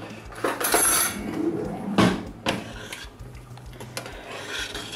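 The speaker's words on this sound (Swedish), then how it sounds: "Och så behöver jag en sked för att röra runt det här också" A spoon scrapes and clinks against a pot while stirring saffron rice for a budget paella, giving several gritty rubbing strokes and metallic knocks up close.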